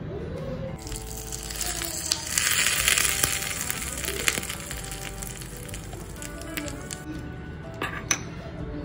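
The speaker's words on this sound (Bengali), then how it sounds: "তড়কা লাগানোর জন্য দিয়েছি আমি সর্ষের তেলে সর্ষে আর শুকনো লঙ্কা, আর তার সাথে কারি পাতা" Mustard seeds, dry red chillies and curry leaves hit hot mustard oil for a tadka, giving a dense, steady sizzle with crackling pops and a few clinks throughout.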